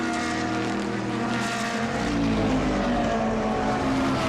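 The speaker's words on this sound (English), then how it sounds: "Audi versus BMW as they come over the timing line now" Audi and BMW GT race cars at Monza in an endurance race blast past the timing line, a loud dense engine roar that shifts pitch as one car passes and another follows close behind.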